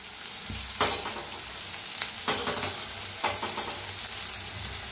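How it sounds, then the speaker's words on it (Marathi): Greens roasting in a pan while making a brinjal bharta, a dense continuous sizzle up close, broken by a few sharp stirring scrapes, with no talking. "पात बी भाजून घेऊया."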